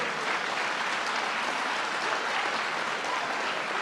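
Students and families at a Jefferson High School signing ceremony applaud the signing athletes, a steady, dense burst of many hands clapping, close and loud from start to finish with no voices over it.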